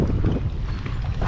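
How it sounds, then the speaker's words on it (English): Wind buffets the microphone outdoors at a scenic viewpoint in Elk County, Pennsylvania, a steady low rumbling gust throughout with no voices. "It's a bit windy, but look at the view."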